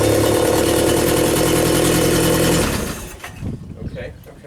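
The engine of a Genie boom lift runs loud and close with a steady rough drone, then cuts off abruptly after a few seconds, leaving fainter clunks and settling noises.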